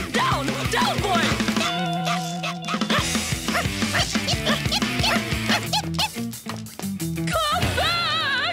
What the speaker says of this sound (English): You horrible dog! Come back! Down! Down, boy!